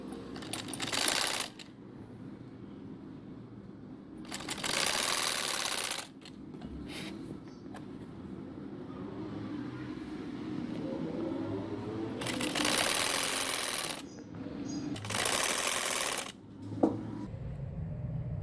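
A sewing machine stitches a frill onto the sleeve of a peplum dress in several bursts of rapid whirring, separated by quiet pauses with fabric handling, fairly close and without talk.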